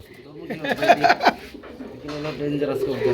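A female flying pigeon, handled for sale at a pigeon market, gives a few soft, close throaty coos in a short burst while someone talks nearby.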